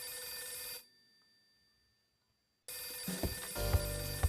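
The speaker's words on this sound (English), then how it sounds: "The phone's ringing." A telephone rings in the video game Last Window, a bright electronic ring that cuts off into near silence before resuming with a low rumble, with no talking over it.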